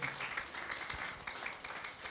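A church congregation applauds during a Christmas sermon, a faint, even wash of many hands clapping heard at a distance.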